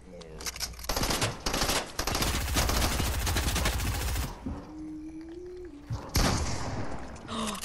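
Rapid bursts of automatic gunfire from the Fortnite video game, loud and dense for several seconds, then a pause with a faint tone before another close burst of shots.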